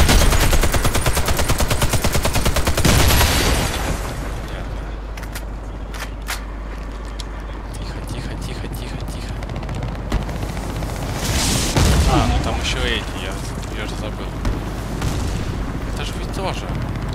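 Turret gunfire in the shooter game Warface: a loud, rapid stream of automatic fire at first, then scattered shots, blasts and crackling combat noise, with someone speaking over parts of it.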